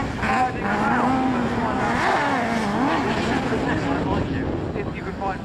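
Autograss cars race around a grass track at Castle Combe, their engines droning and shifting pitch at a distance under wind noise, with voices talking over them.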